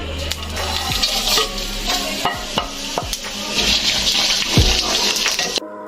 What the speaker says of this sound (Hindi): तो अब इन सब चीज़ों को मैं अपने ऑयल में डाल लूँगी